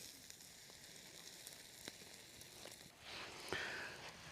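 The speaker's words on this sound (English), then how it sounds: "She's a sizzling." Food sizzling on hot coals while cooking outdoors overnight in the Arizona desert: a faint, steady hiss and crackle with a brief louder spatter near the end, heard alone without talk.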